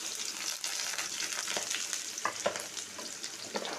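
Mustard seeds and onion frying in a pan for puliyogare, a steady close sizzle with crackling pops and brief stirring scrapes, no voices.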